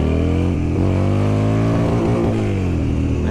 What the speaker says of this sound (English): I hit the rev limit.